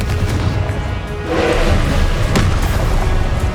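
Fiery Confringo spell blasts in the Hogwarts Legacy video game, heard as a loud, continuous booming rumble with a thud near the end and no speech.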